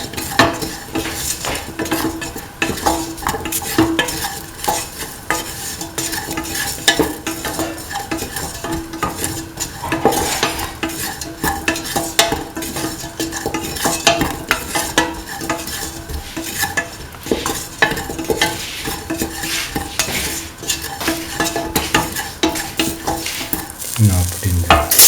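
Ginger, garlic and shallots sizzle in a pan while a utensil stirs and scrapes steadily against the metal for a long stretch, loud and close with no voices.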